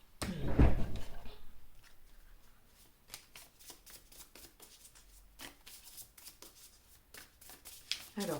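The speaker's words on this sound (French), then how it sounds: "pendant que je brasse les cartes" Tarot cards being shuffled by hand, a loud riffle at the start followed by repeated softer flicks and slides of the deck, close up.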